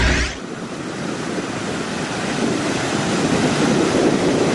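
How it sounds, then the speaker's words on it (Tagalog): Large ocean waves break at a surfing beach in Gubat, Sorsogon, a steady broad roar of surf with wind noise that swells slightly louder toward the end, with no voices. "Isa sa mga kilalang pang-akit ng turista sa Gubat, Sorsogon ang naglalakihang alon sa mga beach."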